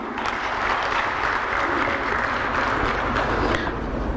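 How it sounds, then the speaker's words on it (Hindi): Guests at a welfare foundation's annual fundraising dinner applaud in a steady, full round of clapping that carries on evenly from start to finish. "आपकी भरपूर तालियों में"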